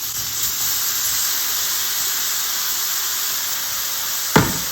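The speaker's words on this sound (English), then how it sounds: "It's time to start searing off our mushrooms." Mushrooms sear on a 22-inch Weber kettle grill, giving a steady close sizzle and hiss throughout, with a brief sharp knock near the end.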